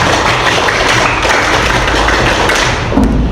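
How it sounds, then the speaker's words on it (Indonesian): A classroom group does a scout-style pramuka clap, a loud, dense run of hand slaps and thuds with a brief sharper tap pattern near the end. "Satu kali tepuk pramuka."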